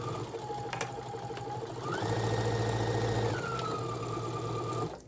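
A sewing machine back stitches a seam on a cosmetic pouch with lining, its motor whirring steadily and close, rising in speed through the middle before settling back, with no voices.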